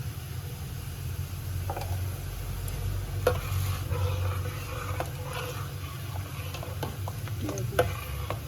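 Garlic, black pepper and cumin sizzle in a tempering pan for moong and masoor dal, a soft, steady frying hiss with occasional stirring clinks over a low background hum, no talking.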